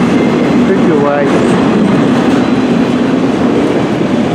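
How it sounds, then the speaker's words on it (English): CN M384 northbound freight train passing at Port Huron, Michigan, a loud, continuous rumble of rolling railcars with rhythmic wheel clatter, while people talk over it. "Yep, seeing M384 northbound train"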